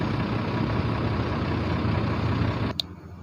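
A Komatsu HD 785 dump truck's heavy diesel engine runs loud and steady with the parking brake set and the accelerator pressed, a dense low rumble that cuts off abruptly near the end with a brief click.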